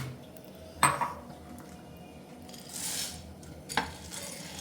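Pumpkin and sunflower seeds being dry roasted in a pan: quiet rustling and stirring, punctuated by two sharp metallic clinks of a spoon against the pan.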